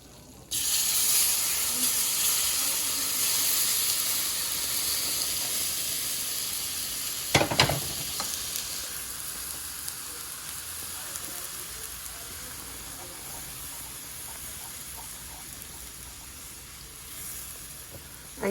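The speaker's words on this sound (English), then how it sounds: "Now the hot milk goes in." Hot milk poured into a hot pan, a strong continuous sizzle and hiss that jumps with a sharp burst partway through, then settles into a softer steady sizzle while being stirred.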